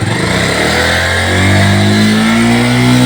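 Motorcycle engine revving loudly and close during a riding lesson, a steady droning roar whose pitch climbs gradually as the throttle opens, with no voices over it.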